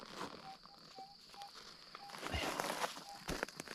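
A Minelab GPZ 7000 metal detector gives a faint target signal: short, repeated electronic beep tones over outdoor background noise at a goldfield dig site, with some scraping and footstep-like thuds.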